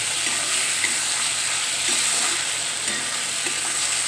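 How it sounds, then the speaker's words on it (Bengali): Oil frying hard in a pan gives a continuous close, even sizzle with faint stirring movements throughout; no one speaks. "আগে এটা ভালো করে ভেজে নিই খুব ভালো করে ভাজ হবে"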